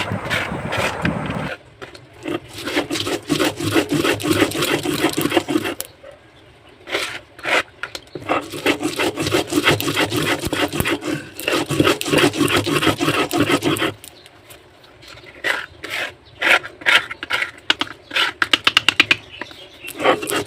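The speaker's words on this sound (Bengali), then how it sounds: "চলো আগে বেটে নিই" A paste being ground by hand on a grinding stone, steady rough scraping strokes repeating in a fast rhythm, close and loud, with two brief pauses where the grinding stops.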